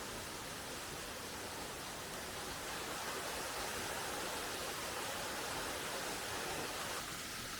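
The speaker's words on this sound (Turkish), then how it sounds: "ardından 7-8 metreden dökülen başka bir şelale" The Değirmendere waterfall roars with a steady, dense rush of falling water, constant and fairly close, with no voices over it.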